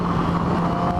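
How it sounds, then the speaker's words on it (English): A 2010 Yamaha R6 motorcycle engine screams at very high revs, holding a steady, loud, sharp whine close to the microphone for a brief moment. "this thing just screams. The whole engine pitch completely changes."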